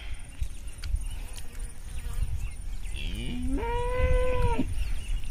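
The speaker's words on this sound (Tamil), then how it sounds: "பக்கத்தில் வரையே மாடு சவுண்டு போடுது." A cow moos nearby in one long, rising low call against outdoor background noise.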